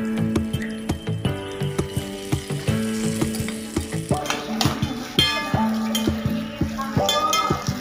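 Cherries stirred in a pan for pickle: repeated loud metallic clanks and scrapes of a spoon against the pan in an uneven rhythm over a faint sizzle, close and continuous, with no voices.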